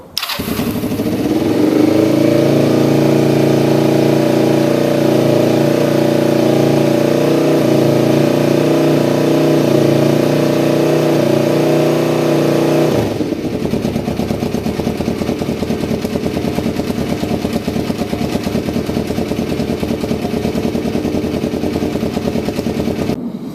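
A motorcycle engine, freshly fitted with carburetors after its reed valve was removed during a bobber build, starts up and runs loud and close with revving. Its tone shifts about halfway through, then the engine keeps up a steady roar to the end.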